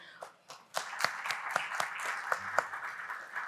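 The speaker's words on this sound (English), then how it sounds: "A round of applause to all you incredible actuaries." A round of applause from a conference audience of actuaries, with sparse individual claps at first that thicken into steady moderate clapping, with faint room murmur beneath.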